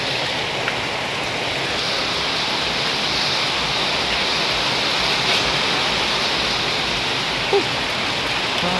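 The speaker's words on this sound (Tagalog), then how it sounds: "Grabe ang lakas ng ulan." Heavy rain pours steadily on a house under construction, a dense, unbroken hiss of water close by that fills the whole stretch with no voices.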